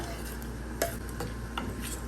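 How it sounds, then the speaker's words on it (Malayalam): Pulissery curry with chopped tomato stirred in a pot as it heats toward a boil, a soft low simmer with a few light spoon scrapes and clinks, close and quiet. "ഇത് തിളയ്ക്കുന്നിടം വരെ ഒന്ന് ഇളക്കി കൊടുക്കണം"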